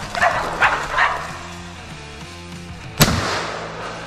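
Hunting dogs in the Australian bush bark while baying a feral pig, a few sharp woofs early and then one loud close bark, over a low rumbling background.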